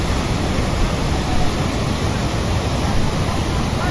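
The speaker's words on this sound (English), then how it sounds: "The sound of the water is simply amazing, and it's very soothing actually." A river rushing through a rocky gorge fills the scene with a loud, steady roar of water, constant and unbroken without any talking.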